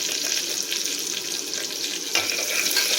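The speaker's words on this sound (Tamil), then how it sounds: "எல்லாமே நல்லா பொரியட்டும்." Cumin seeds fry in hot oil with a loud, steady close-up sizzle and crackle, plus a short clunk midway and no voices.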